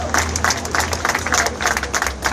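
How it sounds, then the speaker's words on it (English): A crowd applauds and cheers at an outdoor anti-bullying rally, steady dense clapping filling the whole stretch with no clear speech on top. "Y'all clap it up for Ms. Shipley."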